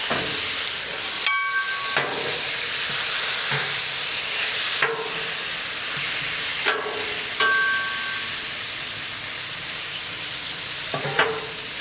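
Yakisoba noodles frying on a Blackstone griddle, a loud continuous sizzle broken by several sharp scraping strokes and bursts of hissing steam, with a few faint metallic clinks.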